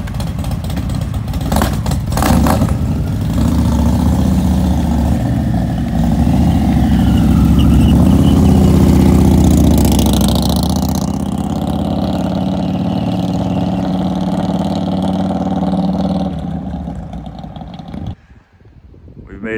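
A Harley-Davidson Road Glide motorcycle engine runs loud and steady for most of the stretch, a low, throbbing rumble with some rising revs before it fades and cuts off near the end, heard alone without talk.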